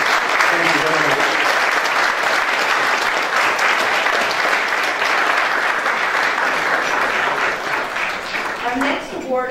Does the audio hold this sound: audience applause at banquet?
yes